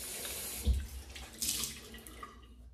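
Lukewarm water runs from a tap during a shave, a soft, faint trickle with a few splashy surges, fading away at the end.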